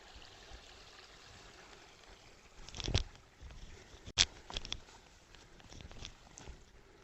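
A creek flows in the Alaskan woods, a faint steady trickle in the background broken by a few close crunching and rustling bumps, without talk.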